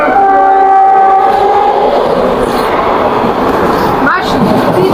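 A train pulls into the last station on its line with a steady, loud rumble, a tonal horn-like hum fading early and a short squeal near the end.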